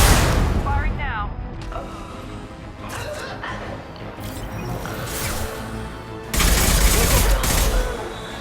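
Bursts of gunfire in the video game Mass Effect: Legendary Edition, with rapid shots and booms over game sound and a loud burst near the end, while voices talk.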